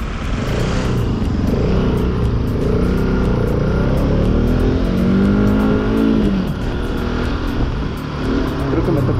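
A Bajaj Pulsar RS 200 sport motorcycle engine roars loudly and continuously, rising in pitch as it revs up, heard close with strong wind noise throughout.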